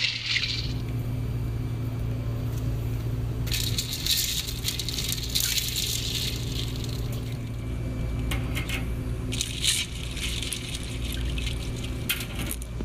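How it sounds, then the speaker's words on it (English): Freshly baked bagels from a wood-fired pizza oven are dropped into ice water, giving irregular clinks and rattles of ice with light splashing over a steady low background hum. "Now we will place them into ice water and shock them."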